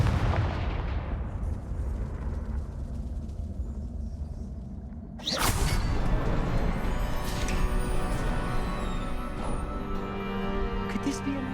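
Confringo fire spell explosion in the video game Hogwarts Legacy: a sudden loud blast that cuts through a steady low rumble of game ambience, followed by a dense, crackling roar that stays loud to the end.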